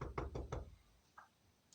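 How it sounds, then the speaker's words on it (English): Knocking on a house door: three firm knocks in quick succession, then a faint single tap after a pause, with no voices. "They got to Mr. Maker's house and they knocked on the door."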